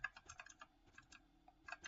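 Quick bursts of typing on a computer keyboard during a Roblox Brookhaven session, close and fairly quiet, the keystrokes clattering in irregular clusters with short pauses between them.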